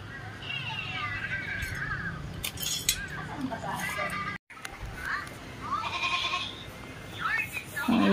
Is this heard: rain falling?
no